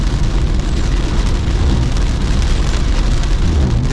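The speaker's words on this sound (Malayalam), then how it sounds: "അങ്ങനെ മഴ തുടങ്ങി" Heavy rain falls on the NH66 road at Haripad, Kerala, by an underpass under construction, making a constant loud wash of noise that never lets up and has no voices over it.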